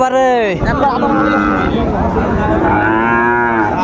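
A Sahiwal cow lets out a long, loud, close moo that rises and holds, with people talking faintly in the background at a cattle market.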